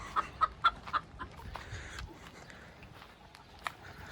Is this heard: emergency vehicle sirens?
no